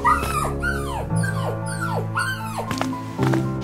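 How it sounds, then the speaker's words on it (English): Dog in the Roblox Brookhaven game yelping and whimpering in a run of high, sliding cries, some with short bark-like onsets, loud and close, with no talking. "You dirty dog, stop now!"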